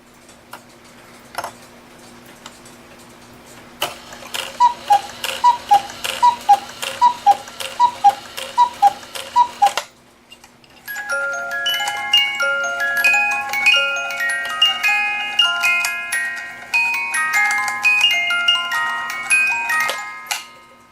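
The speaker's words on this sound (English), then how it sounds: "Now this music box isn't perfect because it is missing that tooth." A cuckoo clock with a music box that is missing a tooth ticks steadily and close, then the music box plays a tinkling metallic melody while the clockwork keeps clicking underneath.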